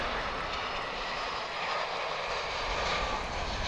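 A United Airlines Boeing 737-800 takes off at DFW International Airport, its engines producing a steady, loud, broadband roar throughout, with no voices present.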